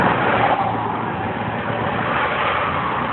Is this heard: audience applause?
no